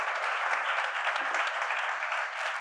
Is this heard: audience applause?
yes